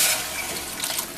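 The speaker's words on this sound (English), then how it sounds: "pour those beans right on top and let the mushrooms soak up that nice tasty bean water" Beans and their cooking liquid pour into a pot over dehydrated mushrooms, a steady close watery splash and gush that runs the whole short moment, loudest at the start.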